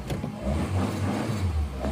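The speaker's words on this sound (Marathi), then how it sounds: "काय टर्न मध्ये गाडी चालू झाली." A car engine runs at a steady, low, close-by rumble with a slight rise in revs, heard alone without talk during a night camping trip.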